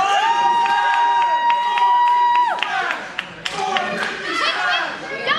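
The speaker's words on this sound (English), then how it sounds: "Crowd's calling for a 450 splash." A Twin City Wrestling crowd chants in unison, one sustained call that gives way to mixed cheering, clapping and chatter, loud and close, with a commentator's voice over it.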